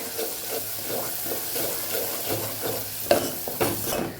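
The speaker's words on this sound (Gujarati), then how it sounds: "અહીંયા સરસ મસાલાને આપણે સાતળી લેવાનો છે।" Spice masala for a mung bean curry sizzles in a pan, with a soft, steady fry under rhythmic scraping strokes of stirring and a couple of sharper clinks near the end.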